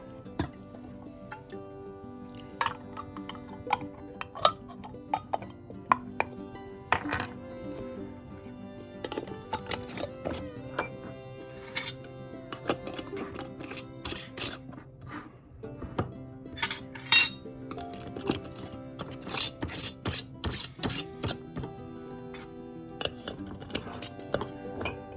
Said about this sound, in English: get my lids and rings on and get them into a cold canner